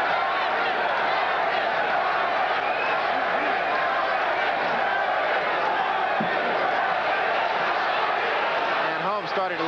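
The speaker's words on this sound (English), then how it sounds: "You can hear the crowd now start to chant" Boxing arena crowd at a heavyweight title fight, Larry Holmes against Trevor Berbick, a loud continuous roar with rhythmic chanting of Berbick's name, under a commentator's steady talk.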